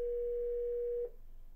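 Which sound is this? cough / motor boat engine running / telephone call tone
telephone call tone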